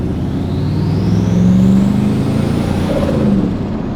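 Turbocharged Chevrolet Silverado pickup engine with an aftermarket intake revving, a loud continuous droning roar that swells and eases with a faint high turbo whistle sweeping upward.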